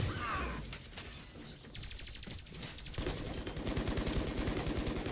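Gunfire in the tactical shooter Valorant during a competitive match, with a dense mix of shots and mechanical clatter that turns into a rapid, steady burst of automatic fire over the last two seconds, loud and continuous.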